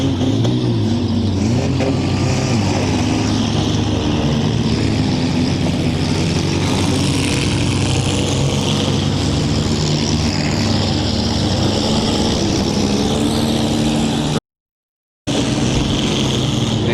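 Demolition derby cars at a county fair event, engines roaring and revving loudly and continuously close by, with dense mechanical noise and crowd ambience throughout and a brief gap near the end.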